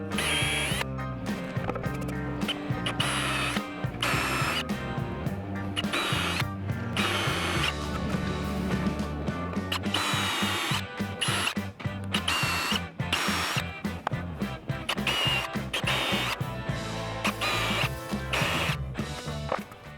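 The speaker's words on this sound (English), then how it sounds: "Finish drilling through with a bit size for the shank of the base fasteners." A power drill bores through a bracket base for a pergola awning, sized for the shank of fasteners going into a brick wall with Tapcon anchors. It whines in repeated bursts with rattling, ratcheting clicks, close and continuous.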